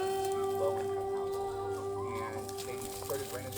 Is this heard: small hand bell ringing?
no